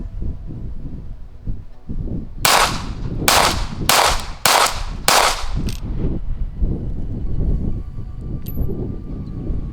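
A Cosaint COS21 3.5-inch ported pistol fired with a 17-round Gen 3 Staccato magazine, five loud sharp shots in quick succession with a short trailing clank, set against outdoor range ambience.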